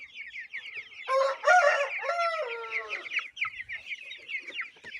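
Several chickens cluck in short, busy bursts nearby while a rooster lets out a loud crow partway through, the clucking carrying on after it without any talking.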